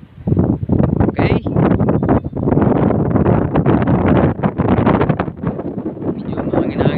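Strong wind blowing along the Manila Bay waterfront, buffeting the microphone in loud, continuous gusty rumbles for the whole stretch.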